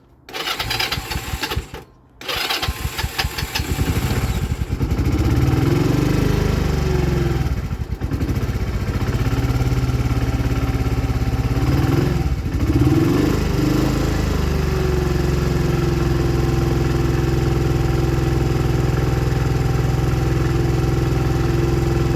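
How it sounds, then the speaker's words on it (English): Stone-cold Honda CD 175 motorcycle with the choke on, cranking in a couple of brief attempts before catching, then a loud, close, steady idle that runs on with slight revs. "Stone cold, so let's give it a shot, see how much it takes to get it started."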